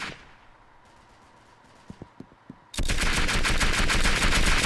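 Gunfire from the Roblox shooter Arsenal: a few faint isolated shots, then from the midpoint a loud, continuous rapid-fire burst like a machine gun, dense and close.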